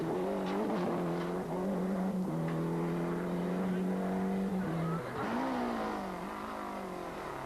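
A rally car on a 1994 Rallye des Hautes Fagnes stage revs hard through the gears, its engine note climbing and dropping with quick shifts, loud and close, with brief tire noise.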